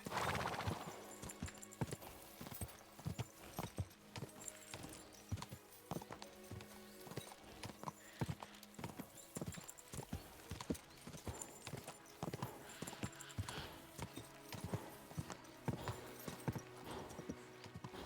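Horse hooves clip-clop in the medieval video game Kingdom Come: Deliverance II, a steady, close rhythmic stream of hoofbeats with faint game ambience underneath.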